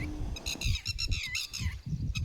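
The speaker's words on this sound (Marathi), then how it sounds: "कसे ओरडत आहेत पक्षी." Several birds squawk and call in short, repeated bursts around a rural field, loud and fairly close, with low rustling and handling noise underneath and no speech.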